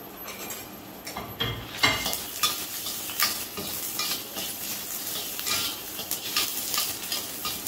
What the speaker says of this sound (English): Put the prawn little while in the oil.